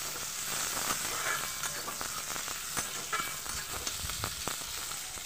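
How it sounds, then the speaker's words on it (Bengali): Chopped onions frying in mustard oil, a lively continuous sizzle with small crackles and occasional stirring clicks, close and fairly soft, with no talking. "পেঁয়াজগুলোকে দিয়ে আমি ভালো করে ভেজে নেব।"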